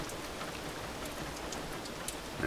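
Steady rain falls outdoors on a rainy day, a soft continuous hiss of drops pattering on surfaces, fairly faint and with no voices.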